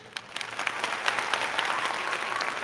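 Canned applause effect triggered during a livestream rises from a few sharp individual claps into a fuller crowd clapping, fairly faint and alone with no talking.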